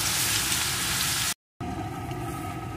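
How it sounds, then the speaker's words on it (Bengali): Crushed large garlic clove sizzling in hot oil for a dhaba-style spicy chicken curry, a steady broad frying hiss interrupted by a brief cut to silence before resuming. "এখন রসুনটাকে একটু ভেজে নেব।"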